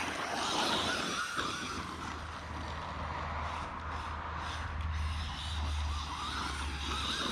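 A Laegendary brushless short course RC truck driving over rough ground, its motor whine and tires rumbling at moderate distance, steady with slight surges.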